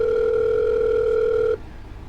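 A telephone dial tone hums loud and steady while a colleague is called, then cuts off abruptly, leaving only faint background noise.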